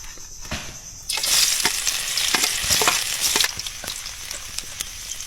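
Shipworms (tamilok) fry with ginger in a wok-style pan, a loud bright sizzle bursting in after a second and settling down, broken by sharp scraping stirs and clinks, no one talking.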